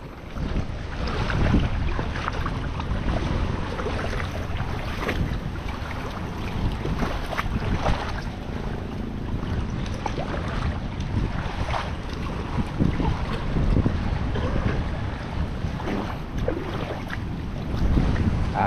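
Boats out on open sea water while conditions are still calm, with steady wind buffeting the microphone and a constant wash of waves and engine-like rumble running loud and unbroken throughout.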